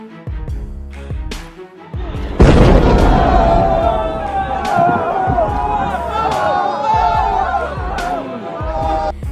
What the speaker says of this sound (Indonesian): Gunung Raung di Kabupaten Banyuwangi, Jember, dan Bondowoso, Jawa Timur kembali erupsi dengan mengeluarkan abu vulkanik disertai dentuman keras